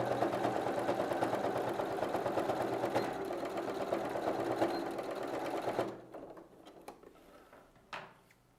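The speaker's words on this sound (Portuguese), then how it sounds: "Começa com um retrocesso aqui na parte de baixo e vem costurando bem retinho" A sewing machine stitches a straight seam on a handmade bag, running as a steady, close mechanical whir for about six seconds before stopping, followed by a few faint handling clicks.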